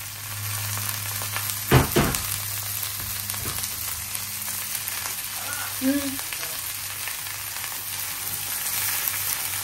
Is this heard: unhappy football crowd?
no